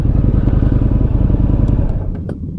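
An Indian motorcycle pulls up close by, its loud, steady engine rumble running for about two seconds before easing down to a lower idle with a few light clicks and clatters at the end.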